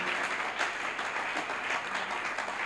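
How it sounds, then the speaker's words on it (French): A church congregation applauds together, a sustained dense wash of clapping that stays steady and fairly loud from start to finish, with no clear voices above it. "Si tu comprends ces choses, acclame Jésus"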